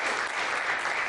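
Brief burst of audience applause at a spring jazz day concert in Flushing, a dense, steady patter of many hands lasting about a second.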